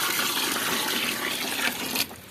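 Cold water gushes into a pot of boiled tamarind seeds being prepared as buffalo feed, a loud, continuous splashing pour that tapers off near the end, close by and without speech.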